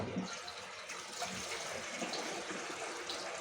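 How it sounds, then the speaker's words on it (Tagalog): Water pours and splashes steadily into a container holding a fish head, a continuous close gushing sound with no talking. "Ang gagawin natin ay lagyan natin ng tubig."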